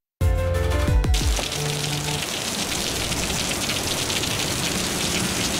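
Steady, dense rainfall hissing and pattering on surfaces, loud and close, lasting throughout after a brief opening of tonal sound.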